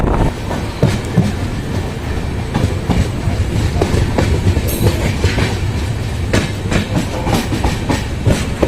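The Avadh Assam Express runs at about 110 km/h near Pilkhuwa, a loud, continuous rumble heard from on board with a rhythmic clickety-clack of wheels over rail joints and no voices.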